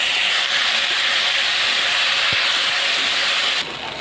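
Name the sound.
prawns frying in oil in a pan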